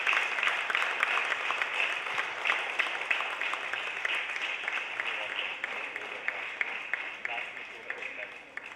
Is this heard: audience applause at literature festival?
yes